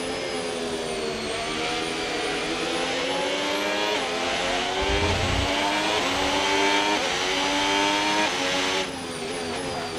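Racing engine of a Formula 1 car in a video game, driven in a wet Canadian Grand Prix race, wailing at high pitch with steady gear-shift rises and a brief low thump midway, continuous and loud with no talking.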